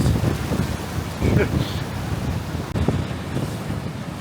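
Strong wind roars and buffets the microphone near the shore at Saltwick Bay, with waves washing in the background.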